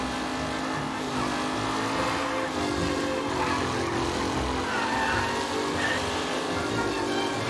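Race cars in a race in Mafia Definitive Edition, engines droning loudly and continuously with layered revving tones as several vintage cars run close together, with the steady roar filling the whole stretch.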